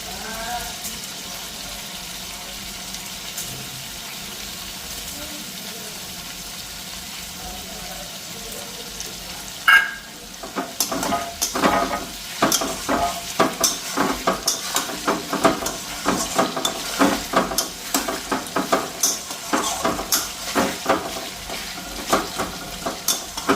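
Raw rice is tipped into a hot wok and then fried, sizzling under a soft background hiss, while a spatula stirs it in quick, regular scraping strokes close by, growing busier after the rice goes in.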